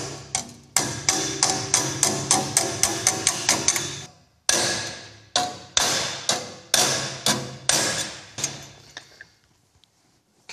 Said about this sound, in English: a metalworking hammer and a dolly just to finish that off